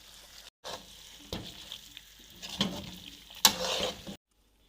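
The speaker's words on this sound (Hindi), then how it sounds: "बस अब 1 से 2 मिनट हम नट्स के साथ इसको भूनेंगे।" Makhandi halwa roasting with nuts in a pan, a steady sizzle and frying hiss with repeated scraping stirs, close and alone without talk.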